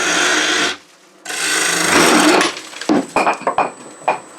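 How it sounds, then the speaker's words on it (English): A woodturning lathe hollowing a box with a spindle gouge and square end scraper, giving harsh continuous rasping cuts broken by a short pause, then a run of scraping catches and knocks. "I use a spindle gouge to start opening up the center before I resort to a square end scraper to do the bulk of the hollowing"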